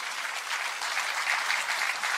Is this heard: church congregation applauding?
yes